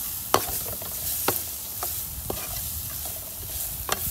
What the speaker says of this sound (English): sauteed onions that we've processed. Put them all in there.